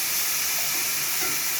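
Green chilies and curry leaves sautéing in a pan for a restaurant-style fish curry, giving a steady, even sizzle and hiss that holds unchanged throughout, close by with no talk.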